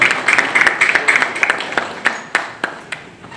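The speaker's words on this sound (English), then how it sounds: "Let's keep clapping our hands." A crowd applauding steadily, the clapping thinning out to a few scattered claps as it fades.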